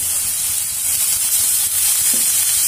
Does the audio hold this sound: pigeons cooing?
no